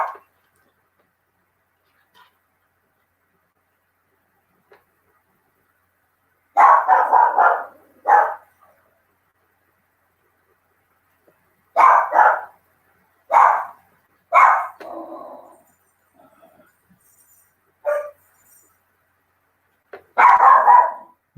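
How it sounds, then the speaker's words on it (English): A dog barks in several loud, close bursts of quick repeated woofs, separated by long silent gaps, during a home drawing stream. "My dog is nuts."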